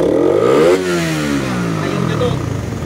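A Suzuki Raider 150 fuel-injected motorcycle engine revs loudly up close, rising to a peak and then dropping back to a rough, steady idle, while someone talks over it.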